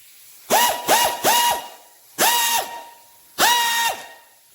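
An Autolock 1/2-inch pneumatic air ratchet wrench spins up in five close, loud bursts, each a buzzing whir that starts and stops sharply, the first three quick together and two more after short pauses.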